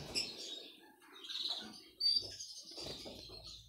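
A canary, a male kept with its chicks in a home setting, gives faint, scattered high chirps and tweets with light rustling and fluttering nearby, no voices present.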